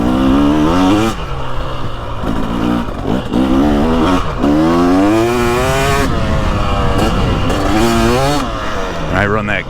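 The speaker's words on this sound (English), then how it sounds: "I love just this playfulness of the engine." A 2023 Husqvarna TX300 Heritage motorcycle engine revving and running loud and close, rising and falling with throttle blips throughout, with wind noise and a rider's voice mixed in.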